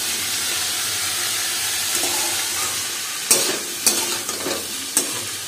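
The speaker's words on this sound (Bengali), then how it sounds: "এবার মুগ ডালটা একটু নাড়বো।" Moong dal frying with vegetables in a wok, a constant close sizzle broken by several sharp scrapes and knocks of a spatula as it is stirred in the last seconds.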